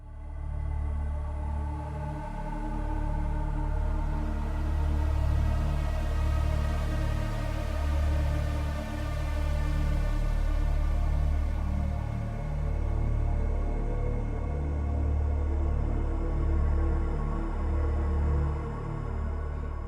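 Dark ambient soundtrack music from Subnautica's Blood Kelp zone, a dense, brooding low drone with slowly pulsing swells and hazy upper textures, sustained at moderate volume for twenty seconds without speech.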